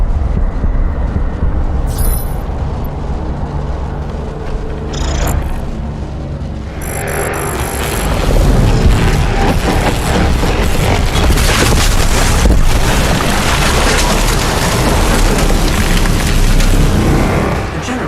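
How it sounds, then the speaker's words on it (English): A main generator overloads and explodes in the Doom Eternal video game, a loud sustained roaring rumble that swells into a broad, heavy blast and keeps thundering to the end. "The generator is overloading."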